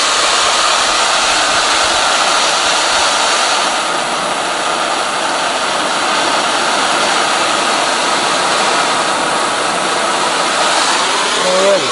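A gas and oxygen cutting torch burns with a loud, continuous roaring hiss while metal is worked for a homemade dirt bike kickstand. The roar stays steady and close for the whole stretch.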